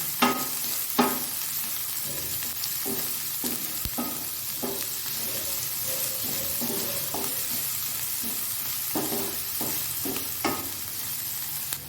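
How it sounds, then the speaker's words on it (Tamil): Chopped onions sautéing in a pan for egg masala, with a continuous hiss of frying and repeated rhythmic scraping strokes of a spoon against the pan, close and fairly loud throughout. "இப்போது இது எல்லாத்தையும் நல்லா வதக்கி வைக்கலாம் வெங்காயம் நல்லா வதங்கட்டும் கோல்டன் ப்ரௌன் ஆகட்டும்"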